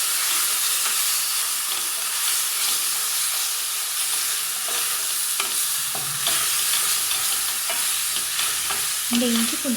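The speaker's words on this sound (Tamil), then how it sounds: "இந்த இஞ்சி பூண்டு பேஸ்ட் நல்லா வதங்கட்டும்" Ginger garlic paste sautéing in a hot pan with onions for a mushroom pepper fry, giving a steady, loud hiss and sizzle throughout with faint stirring scrapes.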